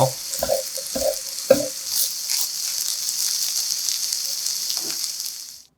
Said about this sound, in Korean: 참기름 한 스푼 넣고 골고루 가볍게 섞어주고 새송이가 익으면 바로 불을 꺼주세요